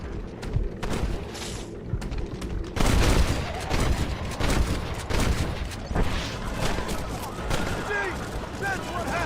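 Gunfire in a shootout in the video game Red Dead Redemption, dense and continuous shots and booms mixed with game sound, while someone shouts over the fight.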